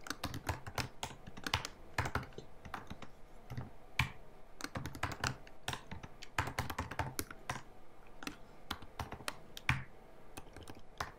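Code is typed on a computer keyboard in close, crisp bursts of key clicks with irregular rhythm and brief pauses between runs, heard alone without talking.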